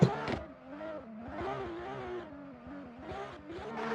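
A car engine in a racing video game revs up and down repeatedly, rising and falling in pitch at moderate loudness, a racing motor heard alone.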